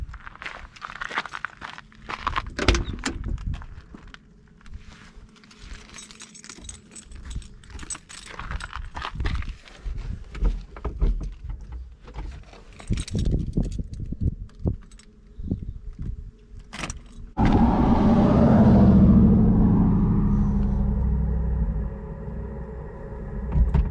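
Keys jingle and a few scattered clicks and shuffles come first, then a 1983 Porsche 911 engine, already warm, fires and settles into a loud, steady idle close by.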